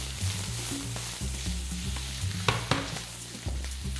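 Shallots fry in butter in a pan, a continuous bubbling sizzle with frequent scrapes and knocks as they are stirred, several sharper clacks standing out near the middle.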